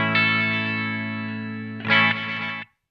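Strymon Volante echo pedal with its playback heads at full volume, a sustained tone layered with repeating echoes, growing denser and brighter near the end before cutting off abruptly, no voices.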